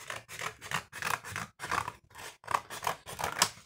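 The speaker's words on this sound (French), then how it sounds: "Donc là, je coupe une petite bande." Scissors cut a strip of wavy, cake-wrapper-style paper in a quick, even series of close, crisp snips, with no voices.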